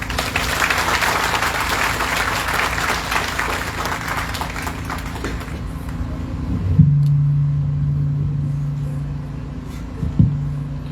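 Audience applause at a seaside Saiva Siddhanta pilgrimage gathering, a dense, steady clapping for about six seconds that fades out, followed by a low hum and a couple of brief bumps.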